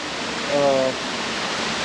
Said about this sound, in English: So if you want to eat here and keep listening to the waterfall, it's so good.